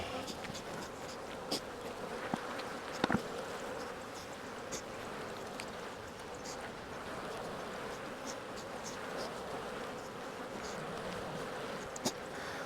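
A dense, steady drone of honeybees buzzing around an opened hive in an apiary in Jacksonville, Florida, continuous and close, with occasional faint clicks and knocks from handling frames.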